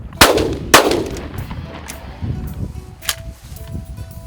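A shotgun firing at clay target plates outdoors, two loud close blasts in quick succession followed by a fainter third report, with people talking quietly between shots.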